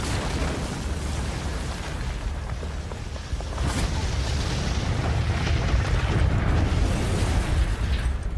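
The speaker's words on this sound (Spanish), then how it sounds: "Una gran explosión envuelve el puente" A huge explosion destroys a bridge during a World War II armoured assault, rendered as a loud, sustained roar of rumbling blast and falling debris that swells and persists throughout.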